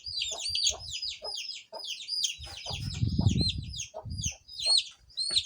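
Young chicks cheep in a rapid, continuous stream of high peeps while they are handled for vaccination, with soft low thumps and handling noises underneath and a louder burst of rustling near the middle.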